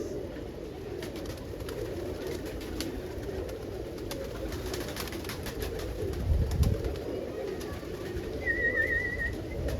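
Roller pigeons coo softly in a loft, low throaty murmurs layered throughout, with a brief louder flutter of movement partway through and a faint high chirp near the end.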